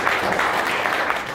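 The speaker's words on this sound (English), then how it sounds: "She deserves a round of applause." Wedding reception guests applauding at a hotel venue, a steady, dense wash of clapping that fills the short moment without a break.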